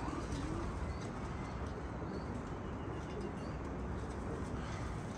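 Pigeons coo and call around a house amid a dense, steady wash of outdoor noise, close and fairly loud throughout.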